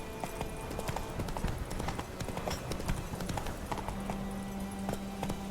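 Horse hooves gallop in The Witcher 3 as a steady, rapid clip-clop that runs the whole way through, close and loud against a dense in-game background.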